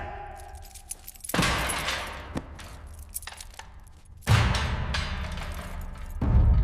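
Keys jangling during a tense Hindi police drama scene with a female IPS officer and village police, bursts of metallic clatter and rustling with sharp loud onsets near the start, middle and end, no talk over it.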